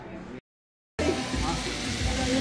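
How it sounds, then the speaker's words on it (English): Plate of Mexican restaurant food sizzling and steaming, a steady hiss at close range that cuts out briefly and then returns louder, with no talking. "We're here at a Mexican restaurant and the food looks great, man. It's awesome. His food is still steaming."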